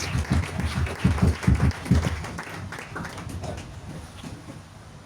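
A church congregation claps together in a burst of rhythmic applause, loud at first and then thinning and fading over several seconds.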